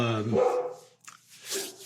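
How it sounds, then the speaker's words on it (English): A dog barks a few times indoors, its voice blending into a man's close speech. "my dog's going off now"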